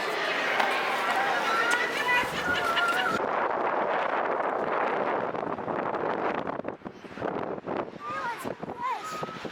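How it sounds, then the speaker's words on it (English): Strong wind gusts outdoors at a skate park in Salt Lake City, buffeting the microphone with a loud, continuous roar. Honking bird calls and faint voices come through underneath. "The wind's been picking up."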